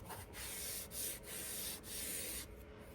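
Smoothing applicator rubbed along a dado rail aboard a narrowboat, a series of close, soft rasping strokes in a steady back-and-forth rhythm with short breaks between, no talk.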